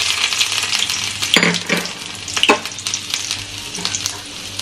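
Chopped garlic and ginger fry in a pan with a continuous crackling sizzle, broken by a few sharper scraping stirs of a spatula near the middle, and no one talking.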